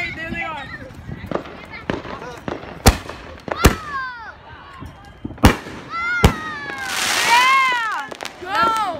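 Fireworks burst outdoors in a rapid series of sharp, loud cracks and pops, some with crackling tails, while excited voices talk and shout over the explosions.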